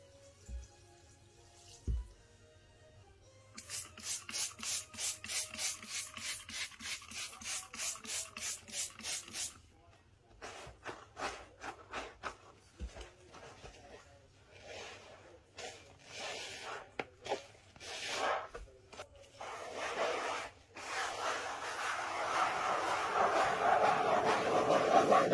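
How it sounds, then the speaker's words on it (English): Scrubbing strokes on a kitchen counter during a lemon-based cleaning, with rapid rhythmic rasping bursts, short sharp taps, and sustained rubbing that grows louder toward the end, close and alone without talk. "much needed counter scrub all lemon"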